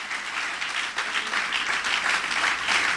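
Church congregation applauding the Lord during a Spanish-language Friday service, a dense, sustained round of clapping that holds steady from start to finish with no talk over it.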